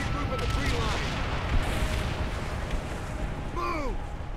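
Airstrike explosions in the Call of Duty: World at War video game boom in heavy rolling bursts alongside whistling shell sounds, loud and continuous over a battlefield din.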